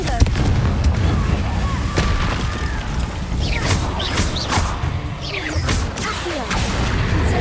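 Confringo blasting-spell explosions in a video game burst repeatedly as sharp booms and crackling blasts, with whooshing streaks between them, loud and close, with speech-like sounds in the mix.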